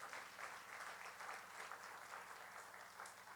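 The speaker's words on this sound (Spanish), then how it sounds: "Dale ese aplauso fuerte al Señor." A church congregation applauds in a steady, even wash of clapping that sounds distant and fairly faint, with a low hum running underneath.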